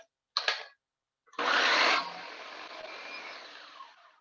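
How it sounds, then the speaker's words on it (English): A kitchen food processor or blender chops cauliflower florets: a short whirring pulse, a pause, then a loud, harsh burst of spinning blades that settles into a steadier, slightly quieter whir. "Be very careful if you're reaching into that food processor or that blender to adjust any of your florets."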